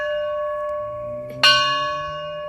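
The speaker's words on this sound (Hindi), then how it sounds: "यहाँ पर एक घंटी है," A temple bell is struck once, ringing out with a sharp metallic clang over an already sustained, shimmering tone that slowly decays; a faint low hum sits underneath.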